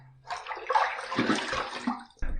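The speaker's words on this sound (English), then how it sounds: "Let's rinse." Tap water runs and splashes steadily for a couple of seconds while someone rinses a freshly shaved face, close and fairly loud, with no talking.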